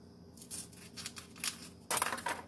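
Plastic packaging being pulled and torn in a home kitchen while baking Christmas cookies: bursts of crinkly, rasping rips and crackles, the loudest and longest near the end, with no talking.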